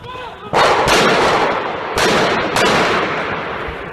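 Loud, rapid volleys of gunfire echo repeatedly, several dense bursts in quick succession with reverberant crackling between them, during the Charlie Hebdo attack in Paris.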